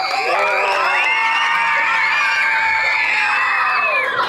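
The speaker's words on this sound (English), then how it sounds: "clap it up for that" An audience cheers and screams loudly at a corporate speaking event, a dense crowd roar with shouts and whoops running steadily throughout.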